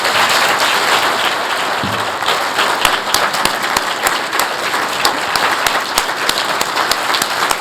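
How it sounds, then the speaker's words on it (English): An audience at a Martin Luther King Day event applauds a speaker, loud sustained clapping from a large crowd with occasional sharper individual claps standing out, continuing evenly throughout. "Give him another round of applause, please."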